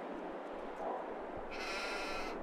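A sheep in Farming Simulator 22 gives one drawn-out nasal bleat near the end, over a quiet hum of game ambience.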